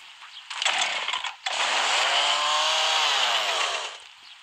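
A chainsaw in a video game buzzes loudly, cutting out briefly after a short burst, then revving up again and running steadily before fading.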